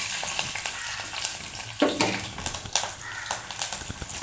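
Black pepper, cumin and four garlic cloves fry in hot oil in a kadai, giving a dense, close crackling sizzle punctuated by stirring scrapes and knocks.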